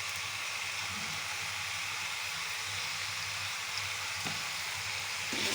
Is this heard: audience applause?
no